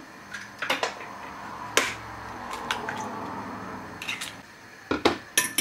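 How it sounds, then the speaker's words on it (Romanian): Eggs beaten with a little salt in a bowl give quick, sharp clinks and taps of a utensil against the bowl, coming in short bursts with quiet pauses between them, close and fairly soft. "Batem întâi ouăle puțină sare."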